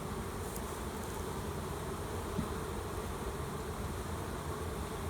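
Honeybees hum in a steady, dense drone around an opened hive during a walk-away split, close and continuous with no break in the buzzing.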